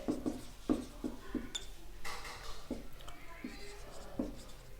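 Chalk or marker writing on a board during a Hindi-medium class XII electrochemistry lesson, with short scratchy strokes in an uneven rhythm and a teacher's voice speaking faintly at times.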